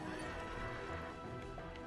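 A horse in Kingdom Hearts 3 whinnies amid dense game noise, with hoof clatter and crashing impacts layered over a loud busy mix for under two seconds.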